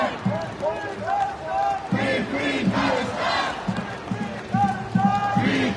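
Crowd at a Palestine support rally in downtown Providence near the Providence Place Mall, a dense roar of chanting and shouting voices rising and falling in waves, loud and close throughout.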